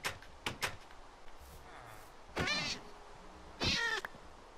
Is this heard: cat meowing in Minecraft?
yes